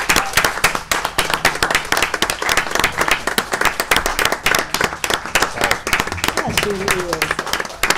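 Applause for students at a school board meeting: many hands clap steadily and close by for several seconds, with a brief spoken remark near the end.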